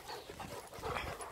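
A dog panting on a walk with several dogs, quick rapid breaths close to the microphone, steady and fairly loud throughout the short moment.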